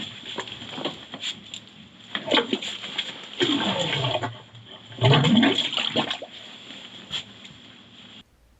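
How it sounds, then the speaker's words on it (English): A toilet flushed upstairs, heard from below near a blocked drain as rushing, splashing water in surges with trickling patter, moderately loud and alone. "pop upstairs and flush the toilets and try and get a bit of water in this drain"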